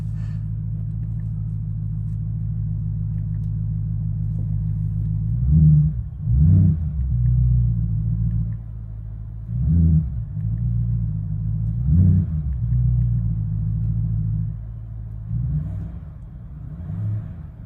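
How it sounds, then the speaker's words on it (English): The exhaust of a 2025 Ford F-150 Raptor R rumbles at a steady idle, then gives several short, deep revs spaced a few seconds apart, heard from fairly near with no talking. "we do have different exhaust sounds, so I'm going to roll down the window and we can take a listen."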